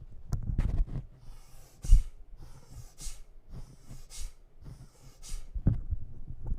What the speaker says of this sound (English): It's forceful inhales and exhales in and out of the nose.